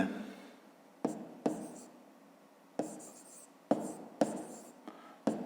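A triangle's name is written by hand during a fifth-grade maths exercise, with short scratchy pen strokes in close, quiet bursts separated by brief pauses.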